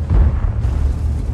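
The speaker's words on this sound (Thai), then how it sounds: "ล็อกเป้ายิงเลยครับ" A tank cannon fires in World of Tanks, an XM66F shooting at a locked-on enemy: a loud, close boom dense in low rumble that stays heavy through the brief moment, with a brighter burst of hiss partway through and no voices.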